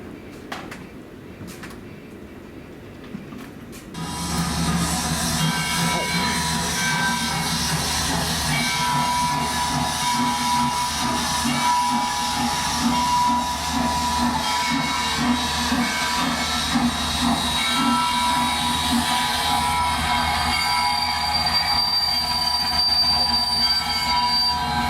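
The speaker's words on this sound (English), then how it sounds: "Nice little train setup they have for miniature train set now." At Mount Airy, North Carolina, a miniature model train runs on its track. After a few quiet seconds of faint clicks, a loud, steady metallic rolling and squealing starts and carries on unbroken to the end.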